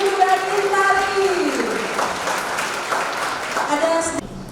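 Audience applause for a speaker at a mental health talk builds into a busy patter of clapping, with a voice speaking over it at the start and again near the end.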